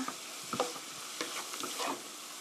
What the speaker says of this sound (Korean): 고루 섞어주시고요